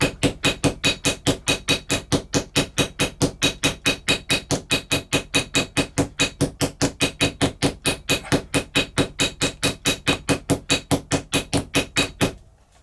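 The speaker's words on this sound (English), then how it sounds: "using my ball pein, the rounded end of the hammer, I go around" Ball-peen hammer rounding over a brass saddlers rivet burr, struck in a fast, even stream of about five ringing taps per second, close and loud, continuing steadily for twelve seconds before stopping.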